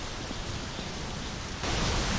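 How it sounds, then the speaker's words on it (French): Rain in the video game My Summer Car, a steady, hissing wash of noise with no distinct drops, which swells slightly louder near the end. "Il pleut encore."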